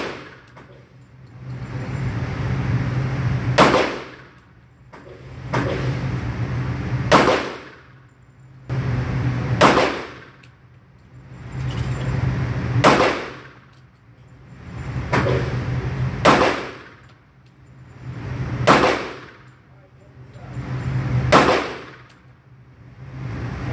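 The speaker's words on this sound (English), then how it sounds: "we're gonna shoot 50 rounds of the Sarsilmaz K40. K245 on the right hand target, 50 rounds at 7 yards." A Sarsilmaz K2 .45 pistol fired at a target seven yards away on a range, one of fifty rounds: sharp, loud single shots spaced a few seconds apart, each standing alone over a low background rumble.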